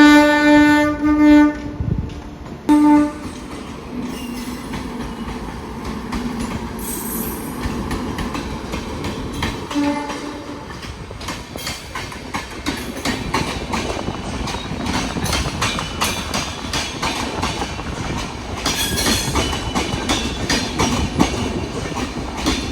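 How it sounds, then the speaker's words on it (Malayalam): A weekly Western Railway superfast express thunders past close by, opening with a loud horn blast, then a long rush of rolling wheels, clattering joints and wheel squeal that grows denser toward the end. "ഇത് വെസ്റ്റേൺ റെയിൽവേ ഓപ്പറേറ്റ് ചെയ്യുന്ന ഒരു എക്സ്പ്രസ് ആണ് കേട്ടോ, വീക്ക്ലി വണ്ടിയാണ്, സൂപ്പർ ഫാസ്റ്റ് ട്രെയിനാണ്."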